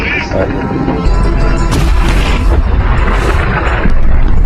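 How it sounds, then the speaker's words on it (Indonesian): Heavy booming blasts and rumbling roar of tank cannon fire, loud and close, with a voice briefly heard amid the din. "tank itu mengincar menara dan akan menembaknya, di mana Sersan Mustafa"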